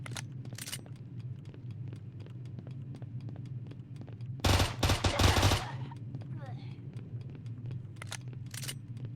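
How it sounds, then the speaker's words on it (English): A gun firing in a video game, a short loud burst of several rapid shots midway through quieter game ambience and scattered clicks. "Just firing this gun."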